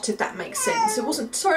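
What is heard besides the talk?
cat crying, meowing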